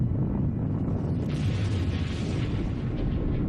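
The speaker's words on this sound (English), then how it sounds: "The explosion blasts the shuttle free." The Challenger space shuttle explodes, heard as a sustained, loud, roaring rumble that fills the low end throughout, with a brighter burst of crackling texture partway through.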